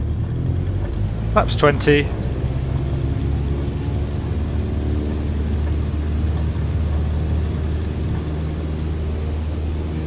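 Single-engine trainer aircraft in Microsoft Flight Simulator throttling up to full power on a runway touch-and-go, a steady low engine drone running throughout under a man's speech.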